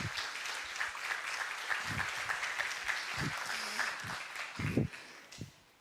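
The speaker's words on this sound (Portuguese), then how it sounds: "Uma salva de palmas para a amizade deles." Audience applause at a community church gathering, a steady patter of many hands clapping throughout, moderately close, with a few louder thumps and a voice briefly under it.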